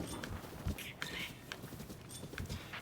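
Horse hooves clip-clop at a steady walking rhythm in Zelda: Breath of the Wild, moderately close beneath game ambience, with a voice talking quietly over it.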